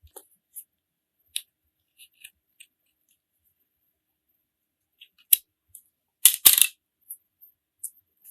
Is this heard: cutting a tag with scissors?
yes